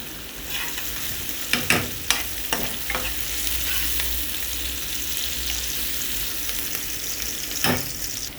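Onions frying in ghee in a pan, a continuous close sizzle broken by several sharp spoon stirs and scrapes, with no one talking.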